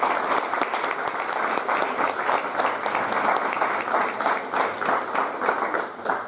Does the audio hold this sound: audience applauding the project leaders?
yes